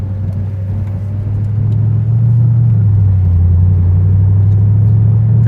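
A 2007 Mercedes-AMG SL55 engine hums and rumbles steadily, its low drone rising slightly in pitch as it accelerates, with no talking.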